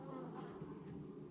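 Honey bees hum in a dense, continuous drone during a colony hive inspection, close and steady for the whole moment with no voices.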